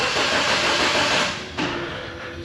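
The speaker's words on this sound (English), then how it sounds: "So we're going to bump the starter, give it a quick crank" A car starter motor cranks the engine in a brief, loud, steady churning whir lasting about two seconds, with a small jolt near the end and no voices.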